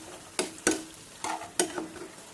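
Onion and chicken marinade sauce hitting a hot pan, with a steady sizzle and about four sharp splashes or stirs spaced through it. Nobody speaks.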